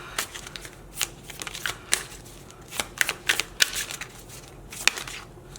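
Tarot cards are shuffled and pulled from the deck, giving a quick, uneven run of crisp riffles and snapping card slaps, close and fairly loud over a quiet room.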